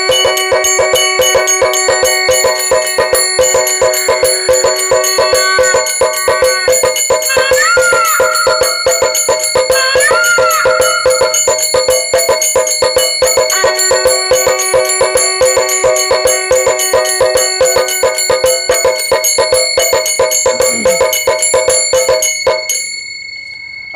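An automatic mini aarti machine for a home shrine rings its bells in a rapid, continuous metallic clatter, loud and close, with sustained chime tones and brief warbling peacock-like calls in between before it stops.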